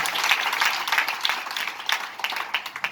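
Clapping from a classroom audience at a Hindi education seminar, a patchy scattering of hands rising and falling at moderate volume for a few seconds.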